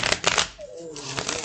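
Mystic Dreamers tarot cards being shuffled, giving close, papery riffling bursts with a short pause in the middle. A voice briefly speaks under the shuffling.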